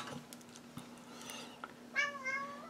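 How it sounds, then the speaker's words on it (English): A house cat meows repeatedly at a door while trying to come in, rising, drawn-out calls over a steady room hum, with faint clicks and soft background noise. "one of the cats is trying to come in"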